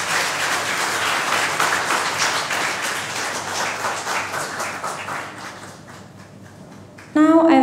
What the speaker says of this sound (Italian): Give a round of applause to performers once again.